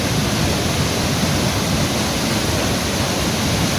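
Tirto Kemanten waterfall on the slope of Mount Raung in Banyuwangi pours in an unbroken, even rush of falling water, loud and close, with no voices.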